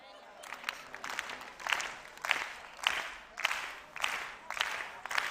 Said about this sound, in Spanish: Tendes que aplaudir así.